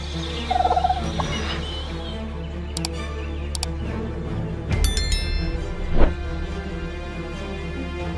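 Wild turkeys gobble in bursts outdoors at moderate distance, with sharp ticking and metallic clicks scattered between the calls and a steady low background hum.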